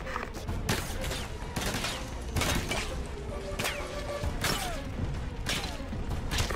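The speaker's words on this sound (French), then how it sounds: "Capitaine, je me fais tirer dessus." Rapid gunfire from a firefight in Ghost Recon Advanced Warfighter 2, with bursts and single shots cracking out in an uneven rhythm, some close and loud, others farther off, alongside mechanical clatter.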